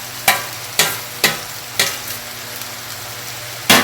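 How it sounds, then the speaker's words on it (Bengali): A spatula scrapes and knocks in a pan as fried shrimp are stirred into sizzling spice masala for chingri bhuna, with five or six distinct strokes over a steady frying hiss and no talk. "এই চিংড়িগুলো কিন্তু এই মশলার মধ্যে অ্যাড করে দিলাম"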